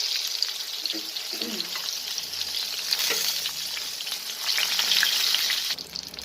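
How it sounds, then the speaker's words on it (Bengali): A whole eggplant fries in hot oil, giving a loud, continuous bubbling sizzle that swells toward the end, with faint movement beneath it. "বেগুনগুলো ভাজবো তেলটা গরম হয়ে গেছে সম্পূর্ণ বেগুনটা দিয়ে দিলাম"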